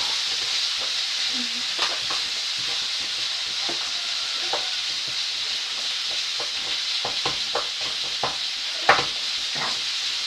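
Food sizzles and crackles steadily in a hot pan while a utensil stirs it, with scattered scraping clicks throughout.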